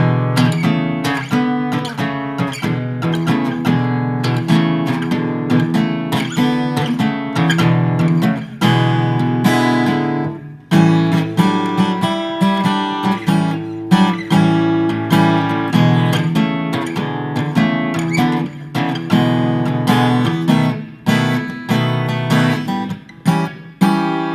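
Acoustic guitar chords strummed in a steady rhythm, bright and close, playing alone for a long stretch with brief pauses between phrases.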